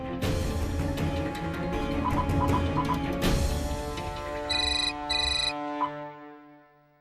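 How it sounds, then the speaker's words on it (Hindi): A phone rings with two short electronic bursts near the end, over a bed of dramatic music from a TV crime drama that fades out afterward. "एक काम करो, जस्टिस बलसारा को फोन लगाओ"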